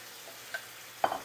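Bulgogi meat fries in a Saladmaster pan without oil, giving a faint low sizzle broken by two sharp clicks of stirring against the pan.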